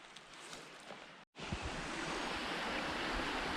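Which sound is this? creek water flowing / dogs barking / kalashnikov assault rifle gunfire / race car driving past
creek water flowing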